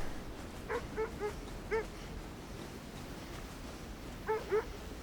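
Sled dogs in the video game Kona 2: Brume bark and yip in two short bursts, a few quick barks early and another pair later, fairly faint over a low ambient game backdrop.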